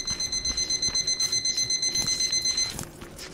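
Repeating electronic alarm beeps from the video game Terminator Resistance, a rapid steady pulse of high tones for nearly three seconds before cutting off, loud and clear with faint game noise behind.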